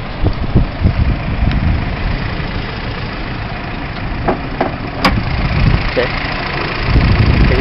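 A 2006 Honda Civic Hybrid engine with Integrated Motor Assist idles quietly at close range with the hood open, a low, uneven rumble, while a person talks over it and occasional clicks punctuate the hum.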